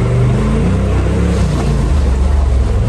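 An off-road vehicle's engine exhaust with a valve rumbles loudly and steadily up close, a dense, continuous low roar with no pauses.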